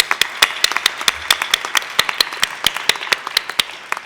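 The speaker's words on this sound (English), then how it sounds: "So we can give it applause even" A small audience at a privacy award ceremony claps in sharp, distinct hand claps, a sparse and fairly close applause lasting a few seconds.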